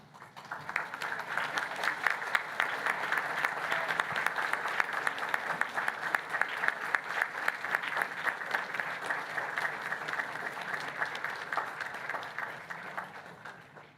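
Sustained applause from graduates filling a graduation ceremony hall at Griffith College Dublin, steady dense clapping from start to finish with no voices over it.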